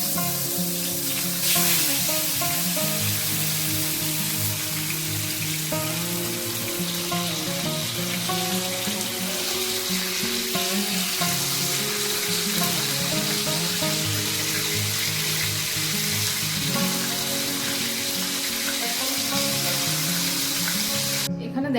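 Rui fish pieces fry in hot mustard oil in a kadai, a loud, continuous hissing sizzle with crackling spatter, close and constant throughout.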